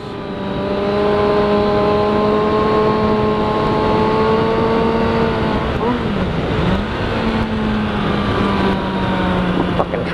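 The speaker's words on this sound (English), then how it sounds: "Fucking truck." A loud, close vehicle engine with a steady harmonic drone and wind rumble passes along a roadside for the full stretch; the pitch bends and dips briefly midway as it goes by, with no one talking.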